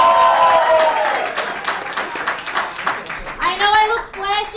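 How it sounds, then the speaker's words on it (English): A comedy show audience claps and cheers for several seconds, loud and dense at first and then thinning out, with voices and a few whoops and shouts over it. "Give them a round of applause."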